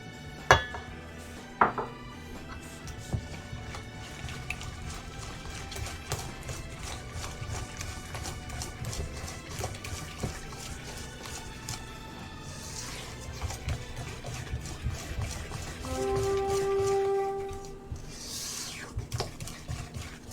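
Whisking in a bowl while preparing a miso dish, heard as a rapid stream of light metallic ticks and clinks, close and fairly quiet, with a few sharper clanks and brief utensil sounds.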